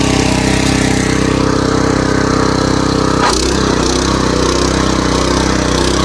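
A Husqvarna TF 230 motor cultivator tills damp soil between pumpkin rows. Its engine drones loudly and steadily up close, with a brief change in load partway through and no voices.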